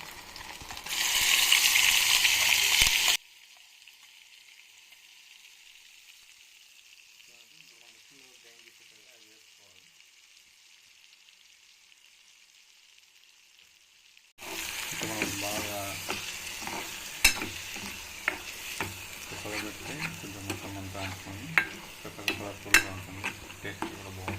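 Ground masala paste frying for mutton paya curry: a loud sizzle at the start, then a long near-silent stretch, then renewed sizzling and stirring with scraping clicks and a low hum, alone without talk.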